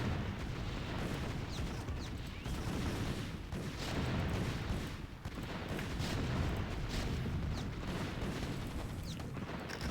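Mines exploding against siege tanks in StarCraft: Brood War, a dense rumbling barrage of overlapping booms and bursts filling the scene at constant loudness, with battle noise churning throughout.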